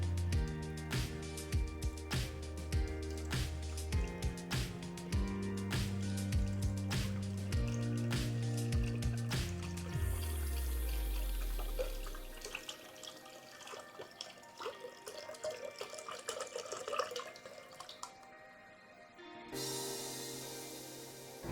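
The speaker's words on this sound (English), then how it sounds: "we'll go ahead and we'll pour in our chicken broth" Chicken broth pours into a cooking pot in a home kitchen, a steady splashing, gurgling flow that follows a stretch of background music and runs close and moderately loud to the end.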